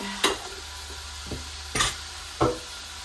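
Food is stirred in a hot pan, with three sharp scraping strokes of a spoon against a soft background sizzle for Thanksgiving cooking.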